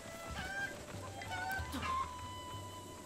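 A cucco chicken in Zelda Breath of the Wild clucks and squawks in short nasal honking bursts over quiet game background music.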